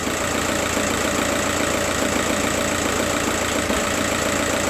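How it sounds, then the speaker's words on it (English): A car engine idles with injector number 3 misfiring, a steady close rumble with a brief dip and stumble near the end, no talk over it. "you may hear the sound of the engine is changing when there is no signal appearing here"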